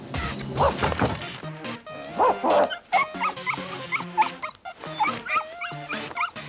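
A cartoon dog barks in a few close, loud yelps mixed with scoring and thwacking cartoon effects, recurring in short bursts across the scene.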